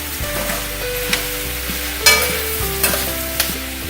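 Eggplant lasagna ingredients seasoned with salt and pepper being stirred in a hot pan, a soft steady sizzle under repeated scraping and clacking strokes of a utensil against the pan, close and alone.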